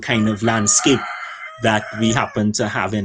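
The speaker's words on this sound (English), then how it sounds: "you can hear my chickens outside in my garden" Chickens crow and cluck outside in a garden in Trinidad and Tobago. The birds sit in the background, partly masked by a person speaking close up.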